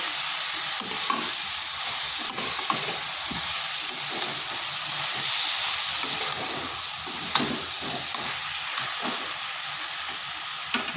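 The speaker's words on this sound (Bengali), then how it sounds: "এটা বেশ কিছুক্ষণ সময় ধরে এইভাবে কষে নিতে হবে" Ridge gourd curry is stir-fried in a pan, with a steady broadband sizzle and frequent scraping stirs of a spatula against the metal. It stays close and fairly loud throughout, with no voices.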